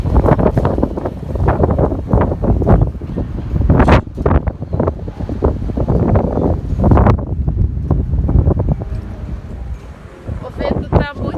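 Strong wind buffets the microphone in loud, gusting roars and rumbles that swell and fade throughout, with a person speaking intermittently underneath the blustery noise.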